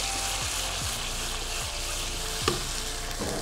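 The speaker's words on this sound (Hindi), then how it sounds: "इस स्टेज पर हम इसमें हमारे छिले हुए टमाटर ऐड करेंगे, जिनको हमने चॉप कर लिया था बारीक।" Finely chopped peeled tomatoes go into a hot pan of frying meat and sizzle steadily, with a few soft stirring scrapes and one small clink partway through.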